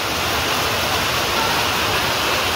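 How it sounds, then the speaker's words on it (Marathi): Heavy monsoon rain pours down steadily in a dense, even roar of broadband hiss, loud and unbroken throughout, outdoors near a farmhouse garden. "बघा मित्रांनो एकदम जोरदार पावसाचं आगमन झालेलं आहे"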